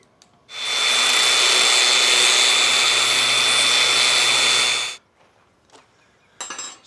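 Steel for a motorcycle luggage rack being cut by a power tool: a loud, steady, rushing roar that lasts about four and a half seconds, then stops, followed by a few faint clinks and a brief final burst.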